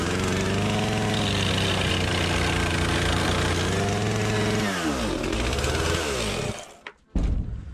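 A chainsaw runs close by at a steady idle with a buzzing drone, its pitch sagging near the end before it cuts out abruptly, leaving a brief silence and a short final burst of noise.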